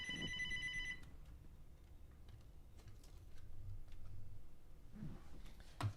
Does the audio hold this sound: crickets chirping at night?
no